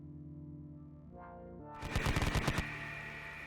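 A medium machine gun firing as a sound effect in a Konflikt '47 tabletop wargame battle report: a quick burst of about eight sharp, loud shots in under a second, following a short rising tone over a steady low hum.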